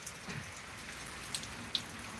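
Rain falls steadily in a soft, even hiss with a couple of sharp drips close by, during a stormy spell with thunder in Thiruvananthapuram.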